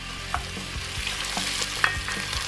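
Sausage sizzling in a pan over an outdoor grill, a soft continuous fry with a few faint clinks and scrapes of stirring, fairly quiet and with no voices.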